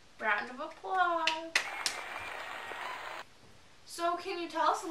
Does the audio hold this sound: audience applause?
yes